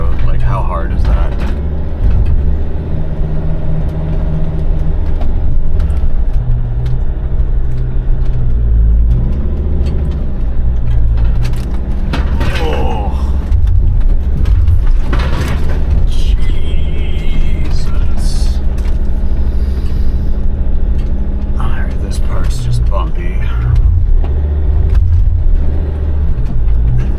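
An old diesel Sprinter van drives slowly over a rough, ungraveled dirt road toward a beach, its low engine rumble and clunks from the body continuing under frequent talking inside the cab.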